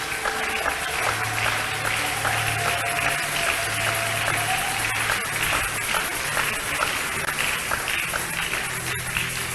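Clapping and applause from a gathered congregation in a reverberant church, sustained and fairly even, with some tonal sounds lingering underneath.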